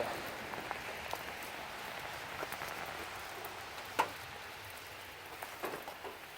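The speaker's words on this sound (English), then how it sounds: "it's raining now, but not very hard" Light winter rain falls in the Uwharrie National Forest, a soft continuous patter with scattered sharper drops close by.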